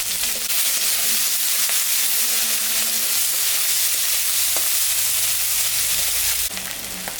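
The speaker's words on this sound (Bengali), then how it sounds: "পেঁয়াজটা ভাজা হয়ে গেছে, এখন আমি আলুটা দিয়ে দিলাম।" Onions frying in hot oil with dried chilli and cumin, a loud, even sizzle that continues without a break and eases slightly near the end, with no talk.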